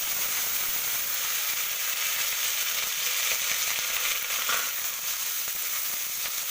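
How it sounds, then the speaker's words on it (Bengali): Chopped onion and green chili frying in a pan, a steady, close and fairly loud sizzle with a bright hiss that runs continuously, with occasional soft stirring scrapes and no voices. "পেঁয়াজ আর কাঁচা লঙ্কাটা দিয়ে এটা বেশ লালচে করে ভেজে নেব।"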